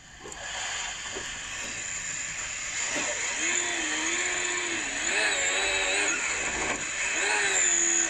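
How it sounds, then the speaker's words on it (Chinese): A Ferrari engine drifting in a racing video game gives a continuous high whine with rising and falling revs and tyre screech, steady and fairly loud throughout. "咁呢架係法拉利嚟嘅，啲聲係好大聲嘅"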